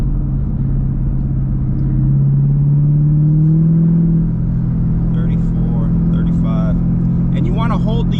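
A ProCharger-supercharged car engine revs and holds steady in third gear, a loud continuous drone rising in pitch midway, with a person talking over the last few seconds.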